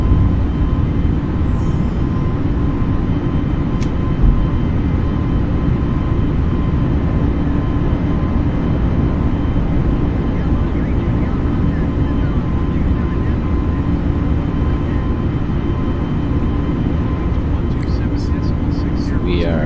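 Airbus A320neo taking off and climbing in Microsoft Flight Simulator 2020, a loud continuous low engine roar held steady throughout, with a faint click and beeps near the end.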